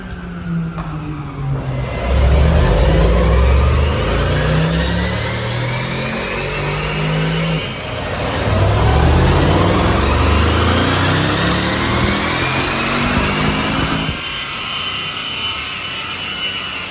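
A car engine on a dyno warm-up run revs hard through two long rising sweeps, dips between them and then drops back, loud and close with no voices.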